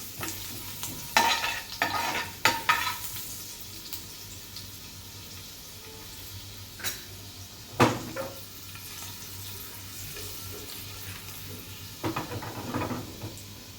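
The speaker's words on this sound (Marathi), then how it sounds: "त्यानंतर बारीक चिरलेलं लसूण आणि मिक्स करून घ्यायचं" Chopped garlic sizzles and fries in a pan alongside cumin seeds for a capsicum dish, with steady crackling and a spoon scraping and clinking as it is stirred, all close and continuous with no talking.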